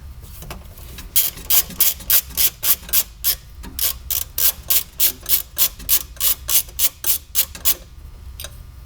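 A ratchet clicks in quick repeated bursts while bolts are removed from the fuel filler boot of an Alfa Romeo Spider, loud and close with brief pauses between runs.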